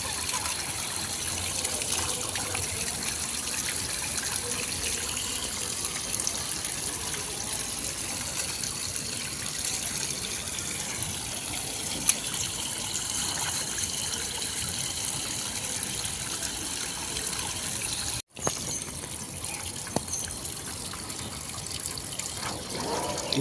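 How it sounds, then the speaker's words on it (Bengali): Running water from a rooftop tank splashes steadily over a wok being washed, a continuous close trickling and gushing with one brief cut near the end. "কত সুন্দর করে টাঙ্কির পানি থেকে ধুয়ে ফেলা হচ্ছে"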